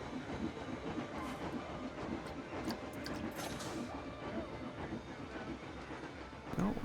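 Roller coaster train running a test lap in the Planet Coaster game, a steady rolling clatter of cars on track with rhythmic clicks, fairly even and continuous, heard alone without talk.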